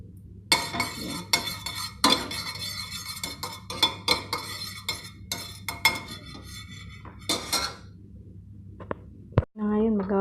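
A spoon stirs garlic, butter and cream in a pan for creamy salmon, with repeated clinking scrapes of metal on the pan and a voice talking over part of it.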